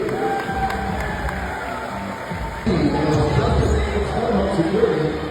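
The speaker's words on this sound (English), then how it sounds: "please give a big round of applause for our ADT First" A stadium crowd at an FAU Owls game cheers and applauds for a first responders salute, a dense roar of clapping and shouting that swells louder midway, with announcer talk mixed in.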